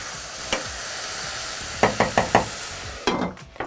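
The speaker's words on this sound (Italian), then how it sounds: "Cuciniamo per circa 10 minuti perché gli champignon e questi tipi di funghi richiedono una cottura" Champignon mushrooms cook in a pan: a steady sizzle, with sharp knocks and scrapes of stirring as a burst of four quick clatters, then a few more at the end.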